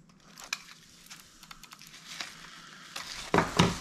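Packaging for a Redragon S101-5 gaming keyboard and mouse bundle is handled and opened, giving quiet rustles, crinkles and taps that grow into louder crackling near the end, with no talk.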